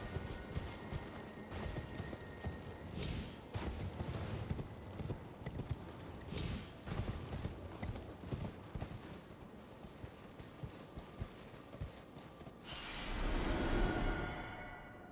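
Rhythmic clip-clop of horse hooves in Elden Ring moving at a brisk pace, steady and fairly close, with a louder rushing burst near the end.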